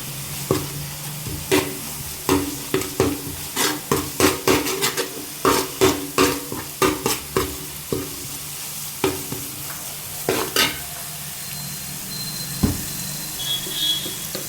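Turmeric powder being stirred in a hot pan for a Kerala-style mackerel fish curry, with a steady run of scraping spoon strokes over a soft sizzle, fairly close, then quieter stirring toward the end.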